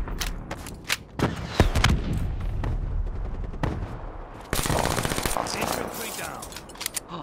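Gunfire from the HG 40 in Black Ops 3, sharp rapid shots and bursts with a sustained stretch of firing, mixed with game noise while players talk over it.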